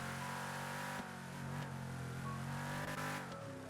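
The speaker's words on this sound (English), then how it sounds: "Let's get in the car." Engine noise from a car in the video game GTA, heard as a steady, loud drone with engine pitch that rises and dips slightly as the car drives, with no speech over it.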